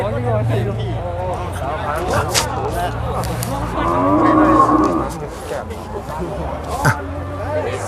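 Water buffalo call with long, low bellows at a busy livestock market, with several moos standing out close by over a constant murmur of people talking in the background.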